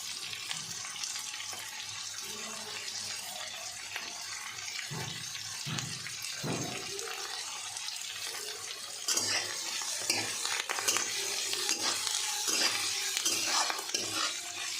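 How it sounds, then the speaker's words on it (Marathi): Curry leaves fry in oil for a spiced dish while a spoon stirs them through, a soft, continuous crackling sizzle punctuated by scraping strokes and a few dull knocks against the pan. "तर यामध्ये आपण आता कढीपत्ता टाकून देऊया."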